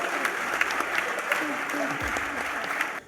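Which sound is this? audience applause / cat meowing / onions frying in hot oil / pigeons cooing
audience applause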